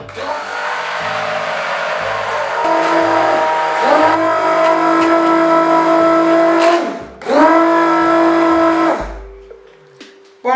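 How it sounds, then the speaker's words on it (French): Immersion blender whirring in a homemade organic shower gel mixture, a steady close motor drone for about seven seconds, a brief dip, then a second burst before it cuts off. "Nous allons venir plonger le mixeur à l'intérieur."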